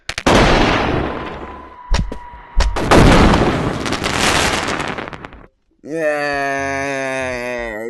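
A flash bomb grenade goes off in the Animal Company VR game, making loud, harsh bursts and crackling blasts that fill most of the clip before a brief silence, followed by a sustained tonal in-game sound.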